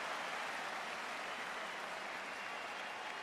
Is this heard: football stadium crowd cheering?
yes